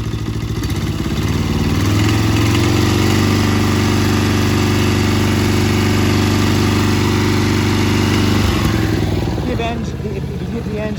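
A Snapper lawn mower's small engine runs steadily at high speed, loud and close, then drops back toward idle near the end.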